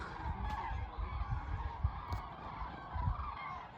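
A flock of birds calling and honking together outdoors, a continuous busy chorus heard from a distance, fairly faint.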